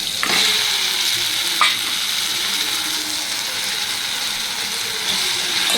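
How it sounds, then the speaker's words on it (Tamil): Potato and brinjal sauté in a hot pan, giving a steady close sizzle and frying hiss with a few stirring scrapes near the start, no voices. "சேர்த்து வதக்கி விடுங்க."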